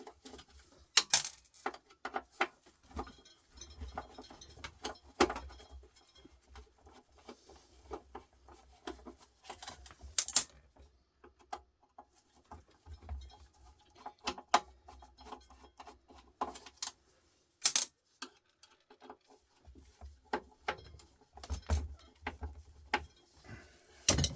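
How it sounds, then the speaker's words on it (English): Screws being backed out by hand, with repeated small metallic clicks, scrapes and ticks scattered unevenly over quiet stretches, close and fairly faint, plus a few sharper taps. "Just taking out screws here, guys, alright?"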